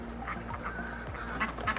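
A few quick duck quacks up close over a low steady hum, with a brief flutter of wings among the calls.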